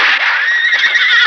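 A horse whinnies loudly after being struck, a shrill, wavering neigh that fills the whole short moment close up, with no talk over it.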